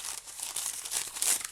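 Close, continuous crinkling and rustling of parchment paper being handled and cut, with brief sharper crackles near the end.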